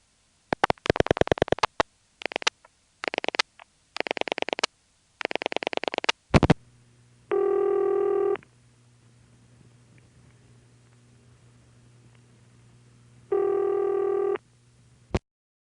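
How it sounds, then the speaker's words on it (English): An old telephone line pulse-dials to a step-by-step switch, giving rapid bursts of clicking pulses in separate groups, followed by two long steady buzzing tones and a final click. "you can clearly hear the pulsing being used to communicate to the switch being called,"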